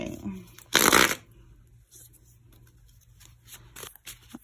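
Tarot cards being shuffled: one loud, brief riffle of cards near the start, followed by softer rustling and handling of the deck, close to the listener in a quiet room.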